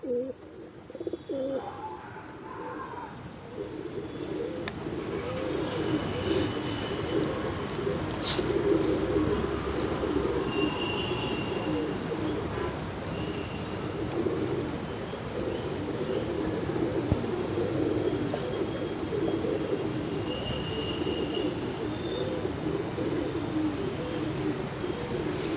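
Pigeons coo in a home loft, soft repeated throaty calls overlapping in a steady murmur throughout, with occasional faint chirps and no speech.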